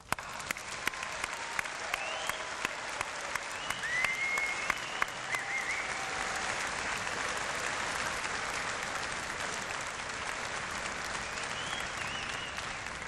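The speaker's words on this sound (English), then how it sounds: "I believe the newest class of graduates deserve a big round of applause." A large audience at a University of Waterloo convocation applauds the new graduates, a sustained, even wash of clapping from many hands that carries on steadily throughout.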